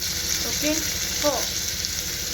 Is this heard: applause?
no